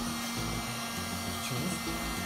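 Household hair dryer blowing hot air on a glow-in-the-dark protective phone coating foil: a steady close whooshing hum with a constant motor whine, running uninterrupted with no talking.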